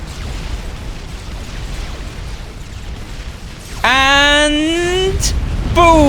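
An SCU unit explodes in Supreme Commander: Forged Alliance with a sudden loud boom partway through, set over a low rumbling battle ambience. A second burst follows shortly after, and a tonal effect sweeps along with the blasts.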